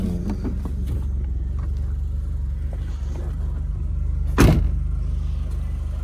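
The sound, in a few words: second-generation Mitsubishi Eclipse car engine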